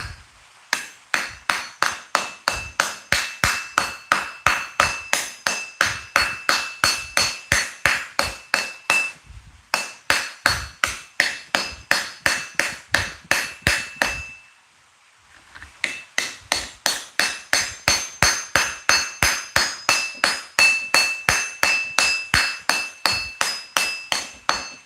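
A metal hammer strikes metal while bowls are forged, sharp ringing blows falling in steady rapid runs of about one every half second, broken by two short pauses.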